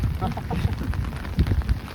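Steady rain pours outdoors during a borewell pooja, a dense close hiss with low rumbling texture that holds even and unbroken for a couple of seconds.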